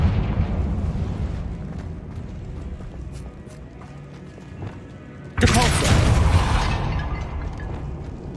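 A Confringo blasting-spell explosion in the game Hogwarts Legacy on PS5 erupts suddenly as a loud broadband burst partway through, then rolls on and slowly fades over a busy game soundscape.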